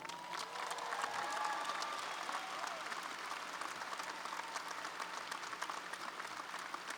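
Audience at the University of Massachusetts Boston 2016 commencement breaks into steady, sustained applause, a dense crowd clapping at moderate volume with faint cheers mixed in throughout.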